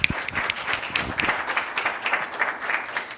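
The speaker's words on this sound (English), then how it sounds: "Nice to hear human clapping" An audience at an ICFRC conference session on Bitcoin in El Salvador applauds after a presentation, with many hands clapping in a moderately dense, steady burst at middling volume.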